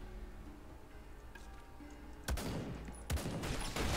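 Gunfire in the game Fallout: The Frontier, a few sharp broadband bursts cutting in sharply over a low steady background, loud against the quiet lead-in.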